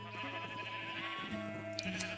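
A video game sheep gives wavering bleats close at hand, layered over constant sustained background tones for about two seconds, with no voices.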